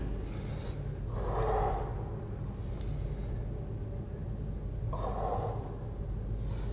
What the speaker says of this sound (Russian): Вот, дыши, дыши